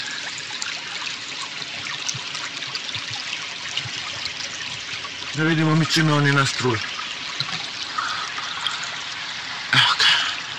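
River water trickles steadily into a sample bottle on the Pek river at Majdanpek, a continuous close splashing hiss with someone speaking over it and a brief louder gurgle near the end.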